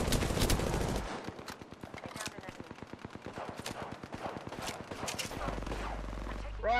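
Rapid automatic gunfire in a video game rattles off as a dense, steady burst of evenly spaced shots that runs for several seconds, with a louder rumble at the start and end and faint voices in the background.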